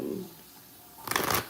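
Playing cards being shuffled, a short quick riffle of crisp flutters near the end after a quiet moment, close and fairly soft.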